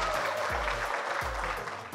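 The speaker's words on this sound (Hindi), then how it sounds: "तालियां जोर से होता है एक बार" Crowd applause at a college canteen event in Meerut, a broad, steady clapping wash from a youthful audience, heard under pulsing, bass-heavy music.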